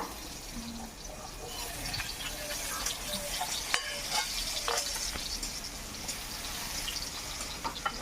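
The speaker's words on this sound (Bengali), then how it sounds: "ওই একই তেলে আমি বেগুনগুলো ভেজে নেব।" Eggplant slices sizzle and crackle in hot oil in a home kitchen as they fry with a little salt and turmeric, a steady moderate hiss with scattered pops and light stirring clatter, no talking.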